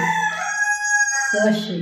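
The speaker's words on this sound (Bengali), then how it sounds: "ইয়েস মোরগ" A rooster crows once up close in a long, loud, drawn-out call with a rising and falling pitch, heard indoors during a food-eating challenge.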